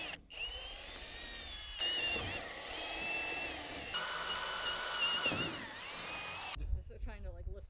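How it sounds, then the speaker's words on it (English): A power drill driving into metal roofing panels for a cabin roof: a steady, high whine held for several seconds at a time, under speech, cutting off briefly before the next panel. "I'm going to go ahead and do all of the panels in the centers where they can be all drilled the same."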